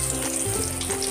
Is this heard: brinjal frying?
yes